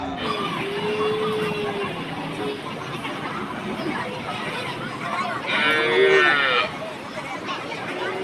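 Cattle mooing at a busy roadside livestock market where dairy cows are traded, with one long low moo early and a louder, closer moo near the end over steady crowd chatter and background hubbub.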